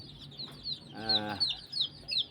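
Domestic desi chickens and their chicks cluck and peep in a farmyard, with repeated short high chirps of the chicks running throughout and a fuller hen cluck in the middle, fairly close and moderately loud.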